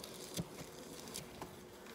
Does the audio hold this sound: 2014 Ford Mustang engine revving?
no